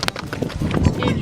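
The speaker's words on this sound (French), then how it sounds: "il y a un cheval qui arrive derrière" Hooves of a horse clip-clop on a country path as it approaches from behind, heard under people talking outdoors.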